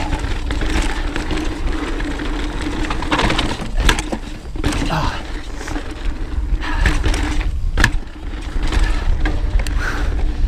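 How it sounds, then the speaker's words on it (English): Syncros fender on a mountain bike rattles against the frame during rough XC race riding in Moab. Irregular clattering knocks sit over constant rolling and wind noise, close and moderately loud. "That sound is just my synchros fender hitting my frame."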